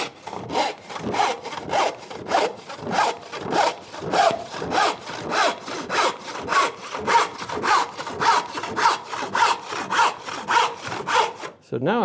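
A hand saw rips lengthwise along a wooden board, with steady, evenly spaced rasping strokes, roughly two per second, close and loud throughout, and no talking.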